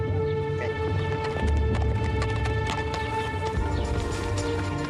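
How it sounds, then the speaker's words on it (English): Tennessee walking horses ride off as a group, their hooves clip-clopping in a steady, busy rhythm at close range against constant background noise. "then mounted their horses and left"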